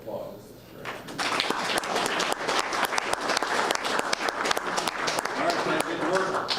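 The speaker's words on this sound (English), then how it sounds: "One more round of applause." A round of applause at a city Board of Public Works and Safety meeting, with steady crowd clapping that starts after a brief quiet moment and keeps going evenly to the end.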